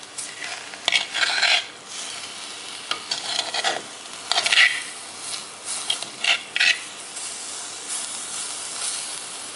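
Unakkameen peera, Kerala-style dried fish, stirred in a pan with repeated scraping bursts over a steady sizzle, close and fairly loud, with pauses between strokes and no voices.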